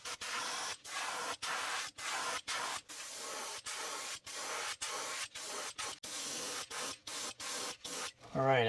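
Airbrush or spray can misting black paint onto a fishing lure copy in repeated short bursts, about fifteen hissing sprays separated by brief pauses, close and steady, with no talking.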